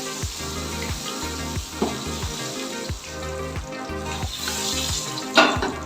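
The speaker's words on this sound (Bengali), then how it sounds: "এই তেলের মধ্যে এবার আমি কটা আলু ভেজে নেব" Potatoes fry in a pan of hot oil in a home kitchen, giving a steady close sizzle with scattered crackles and a few louder pops, alongside a tonal background hum.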